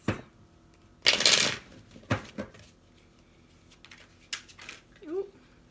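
Tarot cards shuffled by hand in a few brisk riffling bursts, close up, with pauses between and a brief voice near the end.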